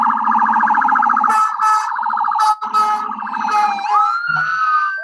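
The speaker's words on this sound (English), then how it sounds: "now you have fire trucks and police cars coming in with lights and sirens" Emergency sirens from fire trucks and police cars wail loudly and continuously, with rising and falling tones overlapping close by.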